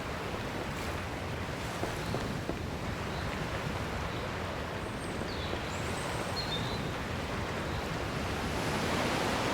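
Ocean waves wash steadily with a constant windy hiss as a boat sets sail at sea in Dragon Quest Builders 2, a continuous broadband roar that swells slightly toward the end, with no talking.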